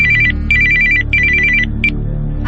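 A telephone rings with an incoming call, giving loud electronic trilling bursts in a steady pattern, three long rings and then a short one, with nothing else over them.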